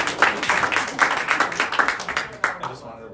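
Group clapping for the scoring teams in a novice-level Latin Certamen quiz round, a few seconds of brisk, uneven applause from a small room that trails off, with some voices mixed in.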